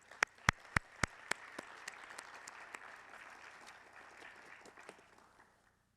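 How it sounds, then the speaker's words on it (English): Applause at a university Martin Luther King celebration starts with several sharp, close claps, then thins into a softer, scattered crowd patter that fades out by the end. "Can we give them another round of applause?"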